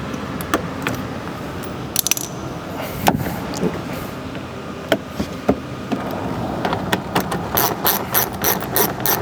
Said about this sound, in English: you're going to need your 10mm socket and the socket wrench along with your trim tool again